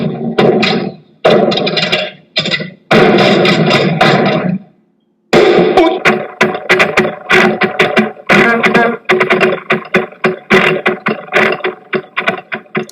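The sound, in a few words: car engine driving as clutch is released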